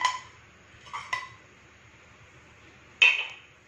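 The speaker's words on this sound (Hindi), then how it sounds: "इसे अच्छा से हम फेंट लेंगे।" A spoon clinks against a bowl while ginger garlic paste is mixed with crushed black pepper for a malai soya chaap marinade. There are three or four sharp, close taps with quiet gaps between them.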